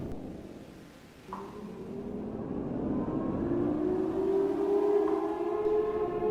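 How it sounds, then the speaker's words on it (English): A long, wailing siren in the video game Project Zomboid rises steadily in pitch and swells louder, sounding alone over a low rumble. "the sirens blared again"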